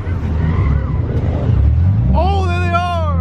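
Cars pull away from a Texas car meet, engines rumbling low and close with a rising rev near the end, while excited voices shout over the noise.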